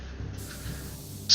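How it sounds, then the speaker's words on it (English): A spray paint can in a video game gives a short, close hiss of spraying that lasts about a second and ends with a brighter burst. "It was spray paint."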